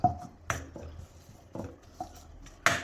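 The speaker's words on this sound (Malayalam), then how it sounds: "എല്ലാം കൂടിയിട്ട് നമുക്ക് ഇളക്കി കൊടുക്കാം." A spoon scraping and knocking against a kadai while gooseberry pickle spices are mixed, several sharp clinks spaced irregularly with quiet gaps between them.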